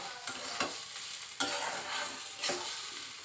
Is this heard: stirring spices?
yes